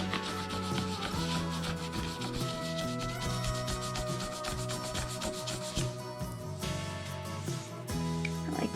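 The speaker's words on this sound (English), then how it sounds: "I like to rub the oil and wax right into it really good." A hand rubs oil and wax finish vigorously into carved cottonwood bark, producing close, continuous scratchy rubbing strokes in an uneven rhythm, with no talking.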